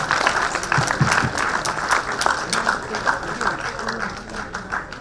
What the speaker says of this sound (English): let us congratulate all the participants first by giving them a round of applause